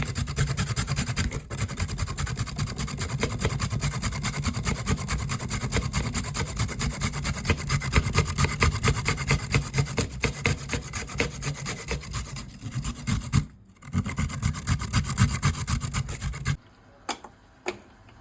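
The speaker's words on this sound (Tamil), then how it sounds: "இப்போ நம்ம பம்கினை கிரேட் பண்ணி எடுத்துக்கலாம்." Pumpkin being grated by hand for pumpkin halwa, a steady rapid rasping scrape repeating for about sixteen seconds, brief pause near the middle, close and fairly loud, then stopping into near quiet.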